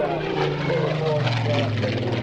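Hurricane and Spitfire fighters with Merlin piston engines flying past at an airshow, a droning propeller growl with a rising and falling pitch, heard under a commentator's voice.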